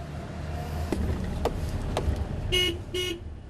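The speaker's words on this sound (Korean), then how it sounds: "경적을 올려보지만 꼼짝도 않는데요" A car horn honks twice in short bursts at a seaside breakwater construction site, preceded by a few clunks and knocks with a low idling rumble beneath, fairly near and with no speech.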